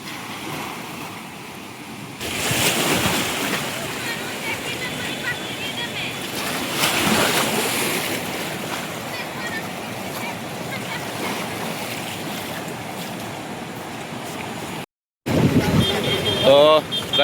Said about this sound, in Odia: ଏପଟେ ପୁରା ଢେଉ ଟାଇପ୍ର ଆସୁଛୁ।